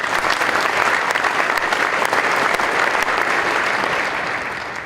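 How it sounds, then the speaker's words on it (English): An audience at a finance association gathering gives dense, steady applause for the full five seconds, loud and close, with the clapping easing slightly at the end. "Give yourself another round of applause."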